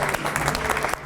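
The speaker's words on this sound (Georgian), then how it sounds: "აპლოდისმენტები თუ შეიძლება." Audience applause at a party event, a dense burst of clapping from a crowd, loud and close, running steadily for about a second before cutting off.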